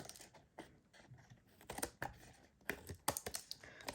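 Scissors snip paper for a handmade card, giving sharp irregular close clicks and cuts, some clustered in quick bursts and others spaced apart.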